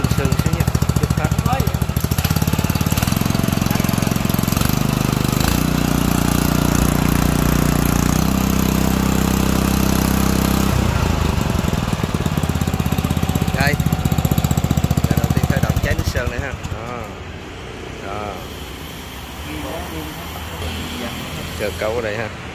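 A new 7 hp stationary boat engine chugs loudly and close by with a fast, rough, hammering beat, shifting pitch a few times before dropping to a quieter idle near the end, with people talking over it.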